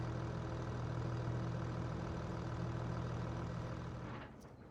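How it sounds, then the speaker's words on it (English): A tractor engine idles steadily on a forest farm, a loud, even low rumble that holds constant before dropping off sharply near the end as it is shut down. "Let's just stop the tractor right there."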